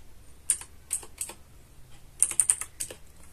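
Typing on a computer keyboard, a few crisp close keystrokes followed by a quick burst of clicks and a final tap, with no talking.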